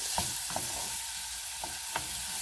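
Onion and garlic gently frying in a pan, a steady soft sizzle with a few light knocks of a utensil against the pan.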